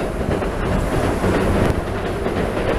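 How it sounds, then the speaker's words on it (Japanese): A train rumbles past nearby while crossing a bridge in Uji, with a loud, steady roar and faint rhythmic clatter of wheels, filling the whole moment. "電車が通りましたね 橋を渡ってる時に電車が通るというねこのナイスタイミング"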